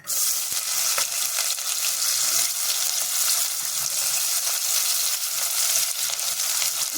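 Chopped shallots sizzle and crackle loudly in hot oil for Chettinad-style country chicken fry, a steady close frying hiss with occasional stirring, and no one speaks.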